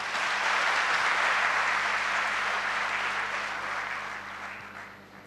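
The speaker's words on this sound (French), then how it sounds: "Je vous invite de les applaudir très fort." A talent show audience applauds loudly with dense, sustained clapping that gradually thins and fades toward the end.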